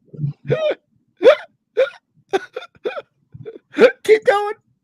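A person hiccups repeatedly, about ten sharp voiced bursts in an irregular rhythm, close to the microphone with silence between them.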